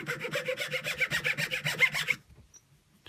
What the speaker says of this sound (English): I'm gonna go on and sand and use the file